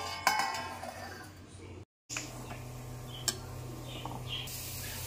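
A plate being set as a lid over a pot of mushroom sambar simmering on low heat: a couple of sharp metallic clinks over a steady background hiss.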